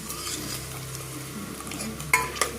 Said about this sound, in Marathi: गॅस बंद आहे तरी पण आपलं हे उकळण्याचं काढायचं काम चालूच आहे